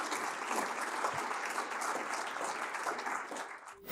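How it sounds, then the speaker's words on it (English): A live audience at a recorded investing talk breaks into applause, a steady wash of clapping that carries on for several seconds at moderate distance before tapering off at the end. "Everybody give Liz a round of applause."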